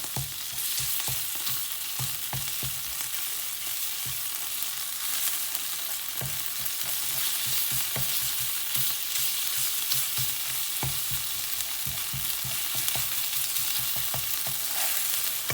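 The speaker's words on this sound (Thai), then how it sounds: "ขั้นแรกเราก็ผัดพริกแกงกับน้ำมันให้หอมก่อนนะคะ" Thai curry paste stir-frying in hot oil in a pan, a steady close sizzle with frequent scraping stirs running throughout, no voices.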